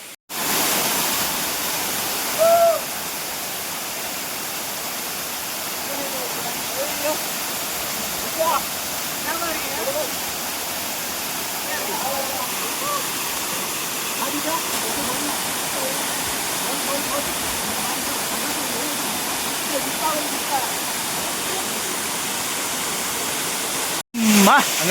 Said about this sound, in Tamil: ஃபால்ஸுக்கு இந்த பக்கம் வியூ பார்த்தீங்களா? ஃபால்ஸு அப்படியே அந்த பக்கம் வியூ.